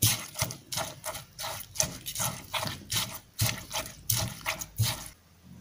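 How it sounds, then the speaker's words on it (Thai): Fried glass shrimp are pounded in a mortar for a Thai chili paste, a rhythmic series of quick, fairly soft thumps and taps repeating steadily at close range. "จากนั้นก ็บุบๆให้เขาพอเข้ากันค่ะ"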